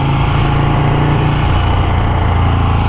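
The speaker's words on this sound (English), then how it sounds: "Whew, this bike's loud." A 2017 Ducati Panigale 1299 motorcycle engine runs loud and close, a steady rough throbbing rumble with no talk over it.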